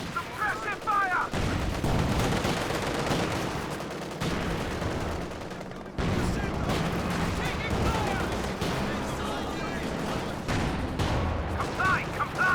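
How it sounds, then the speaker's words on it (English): Company of Heroes 2 battle with rattling suppressive gunfire and scattered booms, dense and continuous under game voice callouts and commentary. "Taking fire. Suppressive fire."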